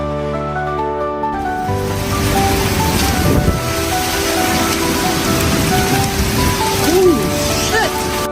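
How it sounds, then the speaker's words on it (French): Steady heavy rain pours throughout a New York storm with violent winds and hail, with low rumbling thunder underneath and brief voice-like tones partway through. "New York a été balayée par des vents violents, de la grêle et des pluies torrentielles."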